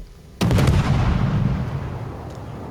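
Ship guns of the Clemson, a tier 3 destroyer in World of Warships, fire one loud, close salvo that booms sharply and then rumbles away over the next couple of seconds.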